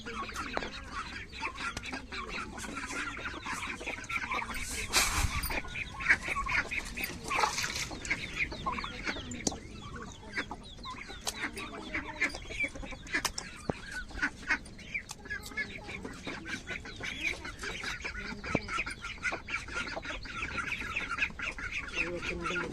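Ducks, chickens and chicks let out of their coop cluck, quack and peep continuously in a dense, close chorus, with occasional louder calls and some human voice mixed in.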